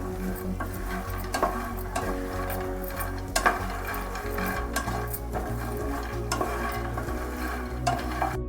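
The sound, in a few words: makhana (fox nuts) being stirred and roasted in a pan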